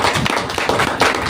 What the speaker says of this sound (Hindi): हमारा गैनोडर्मा के लिए जबरदस्त ताली होनी चाहिए